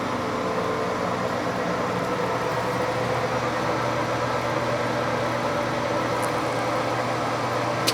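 An Acer 20 x 60 inch gap bed metal lathe with a D1-6 spindle hums steadily at low speed, a constant mechanical drone with no talking over it.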